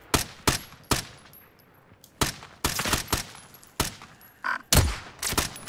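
Bursts of gunfire in the video game Warzone, a dozen or so sharp shots and short volleys spread irregularly, some loud and close, others fainter, with no voices over them.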